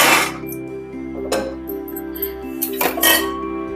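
Roasted dry fruits such as cashews and walnuts poured into a metal dish, giving several clattering, clinking bursts of metal over a low steady kitchen hum, with no talk.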